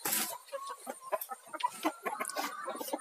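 Several laying hens cluck and peck at mixed feed in quick, irregular bursts, close by and fairly quiet, with a brief rustle at the start.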